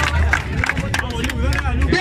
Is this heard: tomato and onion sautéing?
no